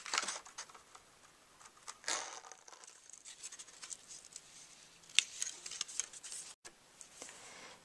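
Scissors snip through cardstock around a cookie cutter shape, close and quiet, with a steady run of small crisp cuts and scratchy paper rustle, a few sharper clicks standing out.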